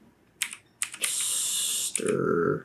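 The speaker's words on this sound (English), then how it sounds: "I can't type while you're typing" Fast typing on a computer keyboard, with a sustained run of clicks and a short pause before a second burst, close and fairly loud, with no talk over it.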